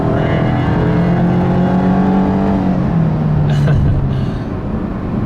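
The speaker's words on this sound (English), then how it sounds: "but yeah, I do a pull on this thing, and it's like." A 2017 Subaru Impreza Hatchback 2.0i Sport with a 2.0-liter engine accelerates hard on an open road, its engine droning loudly from inside the cabin as the pitch climbs steadily, then drops at a gear change.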